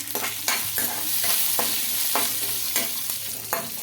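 Chopped garlic, ginger and tamarind fry in a pan with a steady sizzle, punctuated by regular scraping stirs at close range.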